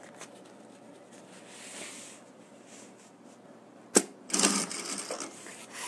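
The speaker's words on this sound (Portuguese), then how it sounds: "Fez a costurinha de acabamento aqui." Sewing machine stitching a finishing seam on a wallet pocket: a faint run of soft mechanical ticking, then a sharp clack and a louder burst of rapid stitching, with no voices.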